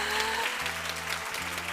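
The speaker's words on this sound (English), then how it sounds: "Let's give them a huge round of applause." Brief applause rises from a conference audience at a women's investment summit, a moderate wash of clapping, with a low steady musical hum running beneath it.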